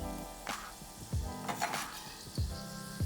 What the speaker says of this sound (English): in our saucepan, we're going to add a good hefty tablespoon of butter